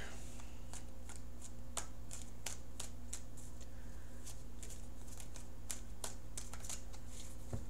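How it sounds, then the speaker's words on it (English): Tarot cards are shuffled and cut by hand in a steady run of crisp riffling snaps and flicks, close and clear over a low constant hum, with no talking. "So let me cut the cards"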